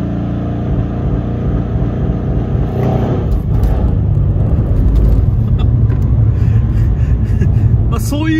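A 600 hp Mercedes C63 sits under launch control and then pulls away, its engine a loud, deep, sustained rumble close to the microphone, with voices talking over it.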